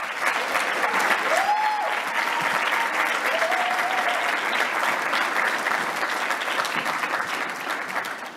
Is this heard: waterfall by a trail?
no